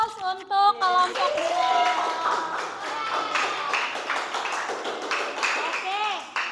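Classroom of students clapping for a student group, a close, busy spatter of many hands with children's voices and chatter mixed in and over the applause throughout.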